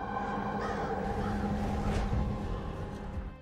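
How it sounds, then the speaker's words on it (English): A crow caws faintly in a dramatic Game of Thrones scene where a feather drifts onto Bran's broken chair. The call sits under a sustained, swelling musical score. "with the sound of a crow"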